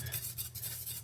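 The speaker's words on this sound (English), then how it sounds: "And stir it in, because we're tempering the eggs." Milk and egg mixture for a crème brûlée is stirred while tempering the eggs, making soft, quiet rhythmic scraping and swishing in a bowl or pan with a low background hum.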